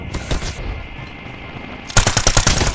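Automatic gunfire in Call of Duty Mobile: a short volley near the start, a quieter lull, then a loud, rapid burst of close shots at the end.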